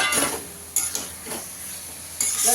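Fried elephant foot yam, potato and prawns go into sizzling masala in a pan, a close frying hiss punctuated by clattering spoon and pan knocks in short bursts.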